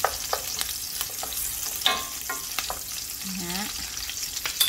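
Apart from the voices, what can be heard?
onions and garlic sautéing in a pan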